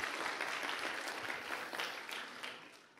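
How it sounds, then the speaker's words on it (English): Applause at a middle school Christmas concert: a dense, steady wash of clapping from a seated audience, loud and continuous before tapering slightly at the end. "Yeah, give them a big applause."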